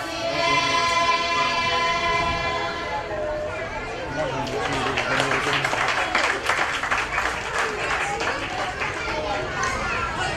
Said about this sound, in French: J'entends que les applaudissements ont été très peu.